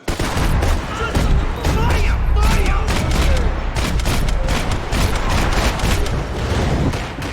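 Dense, loud, close gunfire in the Max Payne 3 shooter game, rapid overlapping shots and bursts crackling almost without pause, with booming impacts underneath throughout.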